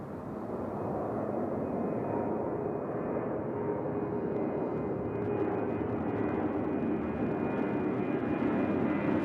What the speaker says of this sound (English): This plane here is going to Tampa, Florida.